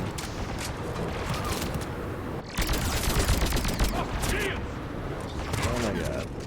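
Rapid bursts of gunfire from a fast-firing gun in a first-person shooter video game, dense and continuous, getting louder partway through, with game sounds layered in.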